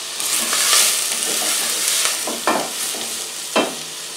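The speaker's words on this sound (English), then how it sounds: "just a medium heat so they're sizzling" Vegetables fry in a pan over medium heat with a steady sizzle, with a couple of louder scraping stirs partway through; no talking.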